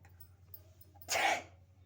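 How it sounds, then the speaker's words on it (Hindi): One short, breathy sneeze set off by powder up the nose bursts out after a quiet moment, close and fairly soft, with a low steady hum underneath. "इस बार आई छींक।"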